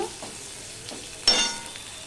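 Green chillies dropped into a pan of hot oil bring a faint sizzle with one sudden louder burst partway through, then a quieter crackle.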